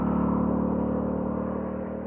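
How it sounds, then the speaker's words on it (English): A Moto Guzzi V85TT motorcycle engine runs at low RPM, a steady, close, even hum with a fine pulsing rhythm that fades a little toward the end, with no voices over it. "the engine just purrs really nicely"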